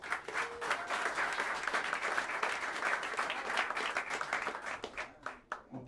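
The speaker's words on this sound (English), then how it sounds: "Please bring your hands together and give a warm round of applause for the great Darryl Green on the drums." Round of applause from a jazz club audience at Smalls for a drummer, a full, even burst of many hands clapping that trails off into scattered claps at the end.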